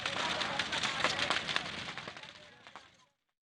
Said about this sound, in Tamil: இதில் லாரியில் இருந்த லட்சக்கணக்கான ரூபாய் மதிப்புள்ள பட்டாசுகள் பல மணி நேரம் வெடித்து சிதறின